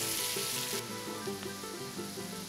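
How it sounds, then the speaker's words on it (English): Chopped onions soften in butter over the heat, giving a steady, moderate sizzle that continues without a break beneath faint clinks and stirring. "add chopped onions and let them soften up a bit under the fire and mix together with the butter"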